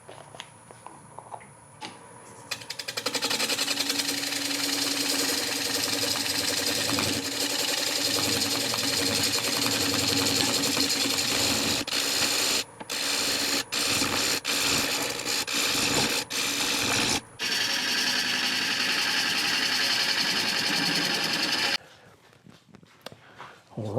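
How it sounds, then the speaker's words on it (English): A wood lathe turns a wet sycamore crotch bowl with live edge while a 5/8 inch bowl gouge cuts; a loud, steady whirring and scraping runs for about twenty seconds with brief dips, quieter at start and end. "I'll be using my 5/8 inch bowl gouge, which is what I do almost all my turning with."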